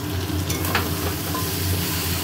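Food sautéing in oil in a pan, cooked down until the oil separates; a steady, close sizzle runs throughout with soft scraping stirs and no talking.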